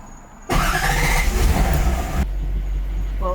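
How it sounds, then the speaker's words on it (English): A Lexus SC400 engine cranks and catches abruptly, then settles into a loud, steady idle for a couple of seconds before the level drops to a quieter running hum. "Turn on the car"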